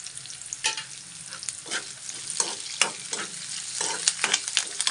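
Curry leaves frying for semolina upma, with a steady soft sizzle broken by repeated scraping stirs of a spoon in the pan, heard close with no voices.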